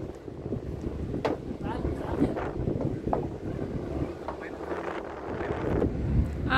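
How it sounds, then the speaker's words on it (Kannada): Wind buffets the microphone steadily aboard a large fishing boat heading out to sea from Koderi harbour, its engine rumbling low beneath the gusts, with voices talking in the background. "ಇಂಜಿನ್ ಸ್ಟಾರ್ಟ್ ಮಾಡಿದ್ದಾರೆ"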